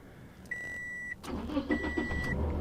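Remote start on a used car: two electronic beep tones, then the engine cranks and catches, running at a steady idle close by.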